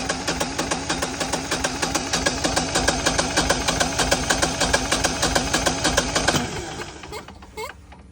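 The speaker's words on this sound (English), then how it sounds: "It's cranking, but it doesn't start." A Generac standby generator engine cranks repeatedly without catching, a steady loud rhythmic churn of the starter that runs for several seconds and then cuts off, leaving a brief rattle and quiet.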